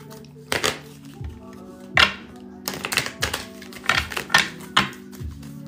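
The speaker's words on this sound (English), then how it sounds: "Let me shuffle this one more time." Cards being shuffled by hand during a tarot-style reading, heard as a series of sharp riffling bursts spaced irregularly over a steady low hum, close and fairly loud, with no talking.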